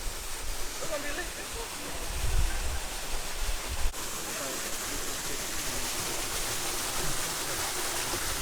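Steady broadband rush of falling water from a waterfall in Mississippi, a continuous roar with no breaks, close by, with faint voices underneath.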